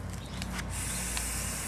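An aerosol spray can hisses as purple paint goes onto the top of a football-themed TV tray table, a close, steady spray that starts after a few short bursts.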